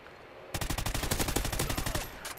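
Rapid automatic gunfire in a video game, a dense burst of sharp shots lasting about a second and a half, loud and close, starting abruptly and tapering off.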